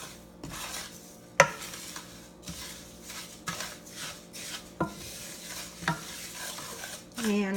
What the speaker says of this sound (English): And give this a mix until everything is nicely coated.